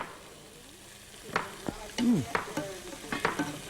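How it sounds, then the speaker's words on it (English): Liver fries in a pan: an even sizzle runs throughout, broken by several sharp scrapes and clinks of stirring utensils against the pan, close and fairly loud. "those are frying real nicely"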